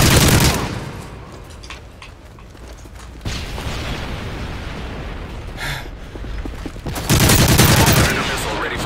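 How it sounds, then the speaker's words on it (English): Gunfire from a gun in Call of Duty Modern Warfare 3 crackles in rapid bursts near the start and end, with mechanical clatter and game noise between. "This gun is very good at range, but at close range, it could be better."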